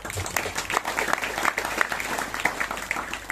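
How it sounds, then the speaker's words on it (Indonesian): Steady applause from a crowd fills the whole stretch, a dense rattle of many hands clapping at even volume. "Tepuk tangan sih."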